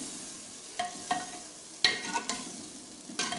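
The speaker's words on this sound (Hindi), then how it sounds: "जब तक कलेजी हमारी पक नहीं जाती हम इसको अच्छी तरीके से भुनाई करेंगे" Beef liver frying with garlic ginger paste in a pan, a low sizzle broken by several sharp stirring clacks and scrapes at uneven intervals, close and alone.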